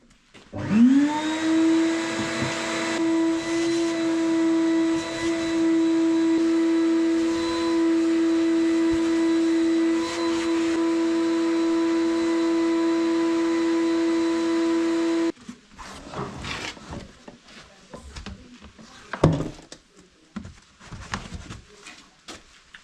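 A vacuum cleaner sucking up dirt and earth while patching a concrete parking spot whines steadily and loud for about fifteen seconds, then cuts off, leaving scattered knocks and rattles of debris.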